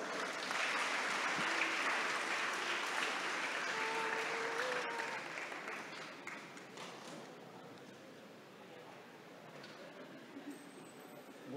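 An audience at a Puccini centennial celebration evening breaks into warm applause for a priest, loud at first and then gradually thinning and fading toward a quieter patter.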